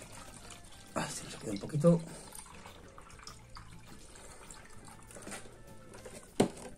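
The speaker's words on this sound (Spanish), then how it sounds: "Lo añadiríamos el agua dentro" Water is poured into a container while calibrating a RAPT Pill hydrometer, heard as a brief splashing gush near the start, followed by quieter handling noise while a person speaks.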